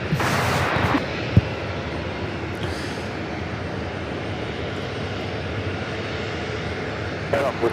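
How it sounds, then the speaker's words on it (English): A Southwest Airlines Boeing 737-700 taxiing into position for takeoff at LAX, its engine a steady, broad roar that holds evenly throughout, with a brief thump and a voice near the start. "Now taxiing into position for takeoff is Southwest Airlines 2354"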